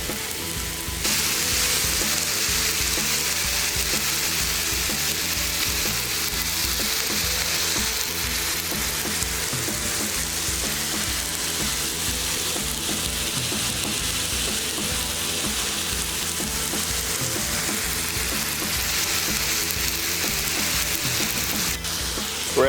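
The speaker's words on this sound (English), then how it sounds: "We're going to cook some sausage." Pork sausage frying on a Blackstone flat-top griddle, a loud, unbroken hissing sizzle that holds steady throughout with faint low crackles underneath, no voices.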